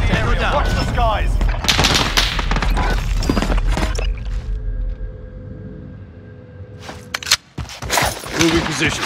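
Rapid bursts of gunfire from the Modern Warfare video game crackle loudly, with some dense automatic volleys, then a brief lull before more sharp shots near the end; game voice callouts are heard around them.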